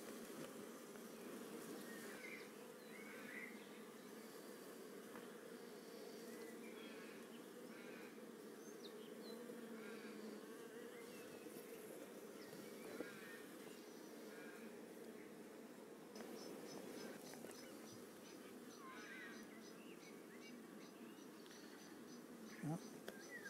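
Honeybees hum in a steady, continuous drone throughout a hive inspection of colonies kept on foundation, with faint occasional handling clicks and no talk.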